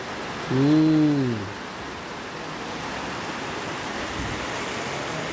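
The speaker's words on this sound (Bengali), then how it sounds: "টিনের চালে বৃষ্টির ফোঁটা টপ টপ টপ টপ করে পড়ে।" Steady rain pours onto a tin roof during the first rain of Baishakh after a storm, a dense even hiss throughout, with a brief wavering tonal cry early on.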